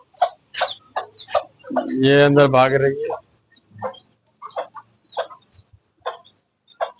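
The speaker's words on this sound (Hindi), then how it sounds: "ये मुर्गी ये लड़ पड़ी मेरे से, लड़ पड़ी ये मुर्गी" A hen clucks in short bursts with one longer squawking outburst, close by and agitated, while someone talks over and between the calls.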